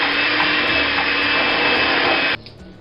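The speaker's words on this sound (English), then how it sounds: "Now we need our friendly whisk." A steady, loud electric whisk runs continuously as it beats butter into sieved icing sugar for buttercream, then abruptly switches off near the end.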